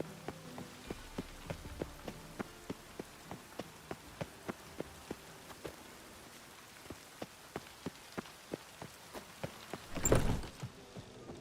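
Rain falling in The Witcher 3: Wild Hunt, a soft steady hiss under evenly spaced tapping ticks, with a short louder burst near the end and no speech.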